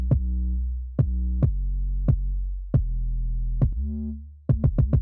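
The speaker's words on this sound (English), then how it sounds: "And paired with it, Logic's trap bass that I have gone through and done some customizing to" Customized Logic trap bass, a deep sustained 808-style tone, layered with punchy kick drum hits in an uneven beat pattern, ending in a quick cluster of rapid kicks; clean, loud and with no voices.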